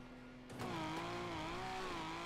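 A car in GTA 5 accelerates hard, its engine note jumping louder and rising in steady revving gear-like sweeps, heard up close and alone.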